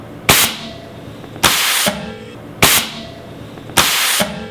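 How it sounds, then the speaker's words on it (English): Pneumatic air cannon props set off by a pressure pad, firing four sharp, loud blasts at roughly one-second intervals, each with a brief hissing tail of escaping air. "When someone steps on this, it's going to trigger this box to set off these air cannons at different times."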